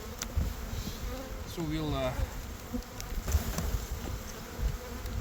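Honeybees drone steadily and close around an open hive during a spring colony inspection, with someone speaking briefly over the buzz.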